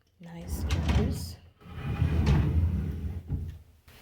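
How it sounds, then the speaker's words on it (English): Large drawers in an on-campus university apartment sliding open and shut, a few wooden rumbles and knocks heard close by, with a person talking over parts of it. "And then let's see in these drawers."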